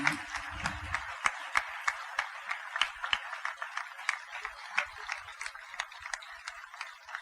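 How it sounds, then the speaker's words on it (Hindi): Audience clapping at a spiritual gathering, a faint, scattered patter of hands that carries on steadily throughout, with a brief low voice at the start. "सभी अपनी भावनाओं के पुष्प परम पूज्य सद्गुरुदेव जी के चरणों में तालियों के महापुष्पों के प्रारूप में अर्पित करें।"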